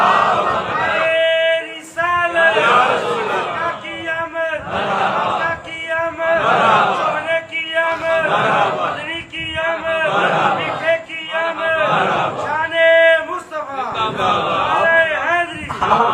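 A large crowd at a religious Milad gathering repeatedly chanting slogans in loud rhythmic bursts, a lead voice calling and many voices answering in unison.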